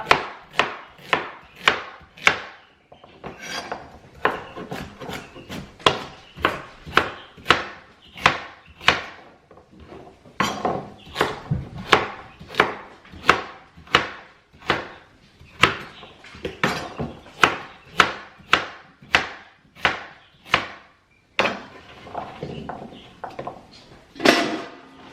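Celery stalks and carrots being coarsely chopped on a cutting board, steady rhythmic knife thunks in quick bursts with short pauses between runs, close and distinct.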